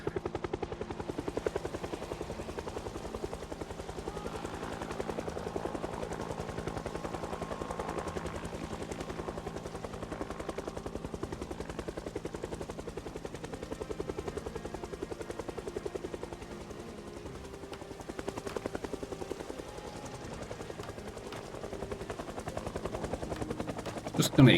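A helicopter circling overhead in the zombie survival game Project Zomboid, a steady droning rotor hum that runs throughout at moderate loudness with occasional sharper bursts mixed in.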